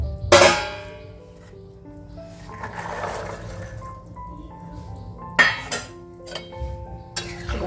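Vegetables go into a cooking pot of rice and lentils: fried cauliflower, then beans and peas added raw. Sharp metallic clinks and clangs of utensils against the pot ring out at intervals over a low kitchen background.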